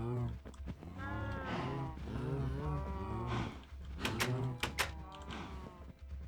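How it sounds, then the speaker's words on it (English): Several cows mooing in Minecraft, overlapping drawn-out moos in a steady chorus, followed by a few sharp thuds near the end. "I should really run through the cacophony of moos."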